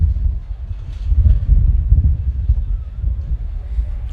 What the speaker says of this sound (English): Gust of wind coming through, that's why your screen might have been shaking.